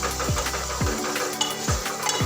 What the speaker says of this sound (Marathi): आता याला छान मस्त असं हलकं असं तेल सुटेपर्यंत परतून घेते